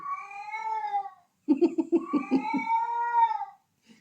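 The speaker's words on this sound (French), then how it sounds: "il commence à être très vieux mon chat, donc tant qu'il a de la gueule comme ça" An old pet cat meows loudly and insistently, close by, with long drawn-out wailing calls broken by a short burst of lower, choppy sounds.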